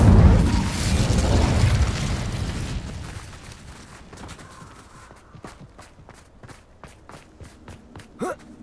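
A fire spell from Hogwarts Legacy erupts in a loud roaring burst of flame that fades over a few seconds, followed by quieter footsteps and scattered pops.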